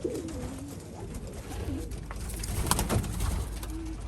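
Racing pigeons coo softly in a low, throaty pattern amid steady outdoor background noise and scattered birdsong.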